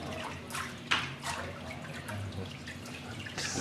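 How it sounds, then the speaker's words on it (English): Water draining and dripping from a papermaking mould after it is lifted from the vat and shaken, a quiet continuous trickle with a few sharper splashes, no talking. "shake it a little bit, so the water goes down"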